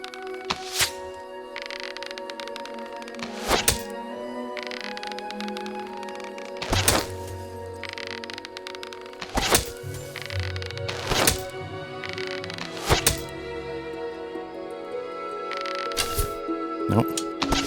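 Bow shots in Fable Anniversary, with sharp arrow thunks landing at irregular intervals, about a dozen loud close hits over a low background hum and ambient tones.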